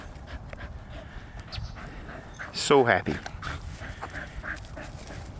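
An excited dog plays outdoors in the cold, panting softly and steadily beneath a person's talk, with one sharp, loud yelp-like burst partway through.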